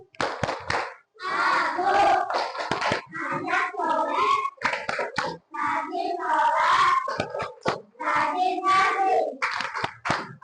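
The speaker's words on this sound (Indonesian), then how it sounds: "Tepuk anak soleh." Schoolchildren in a classroom perform the rhythmic 'tepuk anak soleh' clapping chant, loud group claps punctuating their sung, shouted chanting in a patterned rhythm, with brief pauses between phrases.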